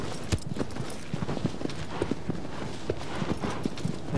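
Rapid hoofbeats of a horse running in the Shadow of the Colossus remake, a steady clip-clop rhythm of many quick strikes continuing throughout at moderate loudness.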